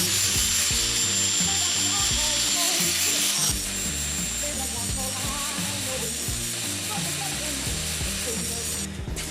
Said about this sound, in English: now I'm going to use the abrasive wheel on the angle grinder to put a bevel along the blade